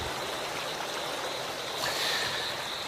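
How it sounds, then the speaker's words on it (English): A stream in Panama rushes steadily, a dense, even hiss of flowing water close by that holds at the same level throughout with no voices. "The sound of rushing water could drown out the calls of a frog."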